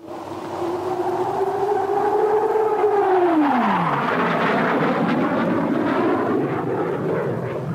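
A Vickers Supermarine Swift jet aircraft roars past close by, its loud whine sweeping steeply down in pitch as it passes and trailing off into a broad, rumbling roar.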